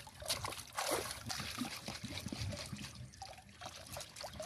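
Gourd seeds soaking in water being shaken, producing continuous close sloshing, trickling and splashing with soft rhythmic pulses.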